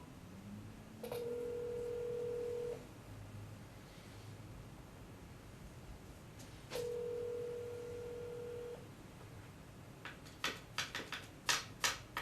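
A telephone ringing on the line, heard as two long, steady ring tones separated by a pause, fairly faint, followed by a few sharp clicks near the end, with no talking.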